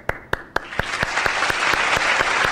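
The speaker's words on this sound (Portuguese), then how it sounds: "Palmas para as vítimas, tá certo?" Studio applause on a crime news program, starting as a few sharp separate claps and quickly swelling into steady, dense clapping that holds to the end.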